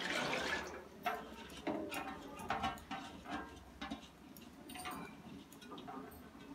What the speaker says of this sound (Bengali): পরিমাণ মতো জলটা আমি দিয়ে দেবো।